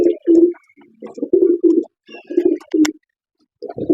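A caged female breeder pigeon or dove coos in a series of soft, low, rounded phrases with short pauses between, close and clear, with a brief higher chirp midway.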